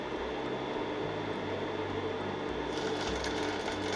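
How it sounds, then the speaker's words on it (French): Sewing machine stitching a pocket flap, a steady rapid mechanical whirring hum running close and continuous throughout, with no voices. "on se retrouve tout de suite à la machine à coudre"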